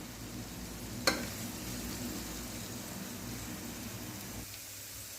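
Vegetables sauté in a pan for pulao with a soft, even sizzle and a single sharp clink early on, the frying sound fading slightly near the end.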